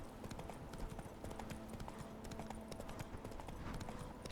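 Horse hooves clip-clopping across a bridge in the video game The Witcher 3, a steady rapid patter of hoofbeats at moderate distance over a dense, busy background.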